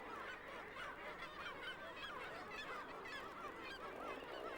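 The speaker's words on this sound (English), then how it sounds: "Other nesting seabirds share the cliffs with the kittiwakes." Seabirds call at a cliff nesting colony of kittiwakes, a dense chorus of overlapping honking and cackling cries that runs continuously and sounds fairly distant.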